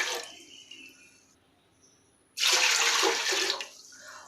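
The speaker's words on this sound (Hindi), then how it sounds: "हम 2 बाउल इसमें पानी डालेंगे।" Water gushes into a pressure cooker of dal in a short, loud burst for about a second after a quiet stretch, then trails off into faint splashing.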